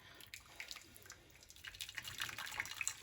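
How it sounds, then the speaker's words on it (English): Boiling water is poured into a dish for softening fresh lasagne sheets, giving a faint, steady trickling with light splashes and drips that build slightly toward the end. "You want to pour some boiling water in there."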